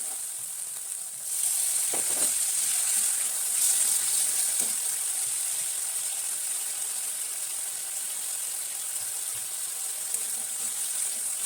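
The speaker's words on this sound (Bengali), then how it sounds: "আমার মশলাটা কষানো হয়ে গেছে, এবার দিয়ে দিচ্ছি জল" Water hits hot fried spice paste for a fish kofta curry, bursting into a loud hiss that settles into a steady, even sizzle with a few soft clinks, no voices.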